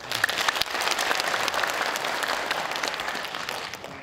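Audience clapping at a county by-election candidate debate, a brisk burst of many hands with a few sharp individual claps standing out early, sustaining evenly before tapering at the close.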